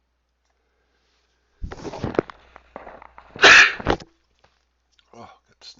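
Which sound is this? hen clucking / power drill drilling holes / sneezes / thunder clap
sneezes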